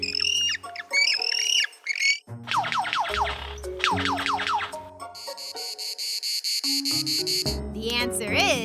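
A male lyrebird runs through a varied string of loud, close mimicked calls: squawks, rapid chirps, sweeping whistles and a long buzzing mechanical-like trill, each phrase distinct and separated by short gaps.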